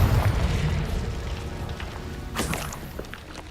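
A Confringo explosive spell fires in Hogwarts Legacy, giving a deep booming blast at the start that rumbles and fades, followed by a sharp second burst near the end.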